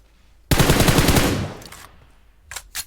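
A sharp burst of rapid automatic gunfire, loud and close, tails off over about a second, followed by two brief distant shots.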